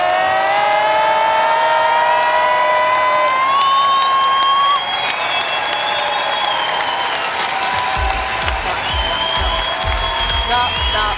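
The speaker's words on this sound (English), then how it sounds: "And then we clap." A large audience at a university's academic year opening ceremony claps, stomps and cheers together, a loud, dense roar of hands and voices over steady sustained tones, with heavy low thumping from stomping feet joining near the end.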